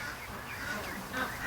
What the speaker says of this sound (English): and here's the duck trapped, and Doug saved the poor little girl